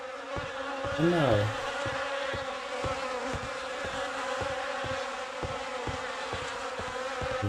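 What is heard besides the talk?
buzzing insects in a video game (The Fidelio Incident)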